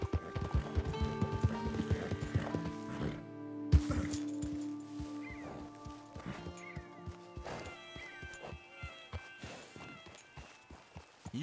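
A horse walks with hooves clip-clopping in a steady, even rhythm, close and clear, with a brief whinny and a soft musical background underneath.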